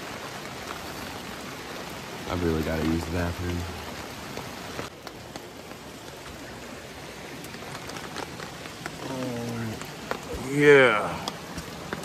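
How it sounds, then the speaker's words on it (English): Rain falls steadily as a continuous hiss at a winter campsite, with people talking briefly over it. "We're just gonna wait for this rain to stop again."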